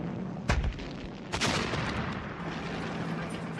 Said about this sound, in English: this is the chap, the 88mm, that was the best anti-tank gun of the whole war